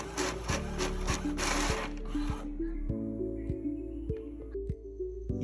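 An eco printer prints a tattoo stencil with a busy mechanical whir and rubbing feed at first, then settles into a lower hum with regular soft clicks as the page moves through.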